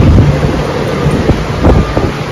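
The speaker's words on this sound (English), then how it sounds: "it's quite spacious and it's windy" Strong wind on a beachfront hotel balcony in Daytona Beach buffets the microphone in loud, rumbling gusts, with a faint wash of surf behind it.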